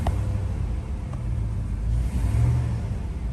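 Chevy Tahoe engine idling with a steady low rumble, swelling slightly as gas is given near the end, heard close and continuous.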